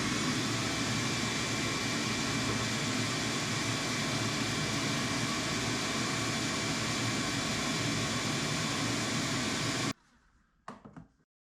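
An old Ridgid WD16 shop vacuum roars with a broad, steady whooshing hiss for about ten seconds, then stops abruptly, leaving quiet with a few small clunks.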